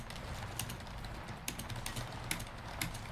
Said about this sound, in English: I wonder what you're typing.